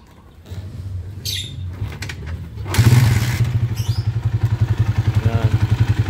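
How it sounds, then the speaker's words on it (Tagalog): A 200cc converted motorcycle engine is kicked over with a clatter and some rattles, then catches and settles into a loud, close, steady idle with an even, rapid pulsing throb. "So pandarin muna natin tong motor niya."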